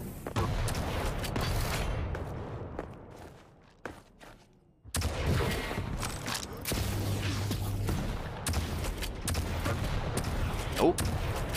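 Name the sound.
rocket fire and gunfire in the video game Quake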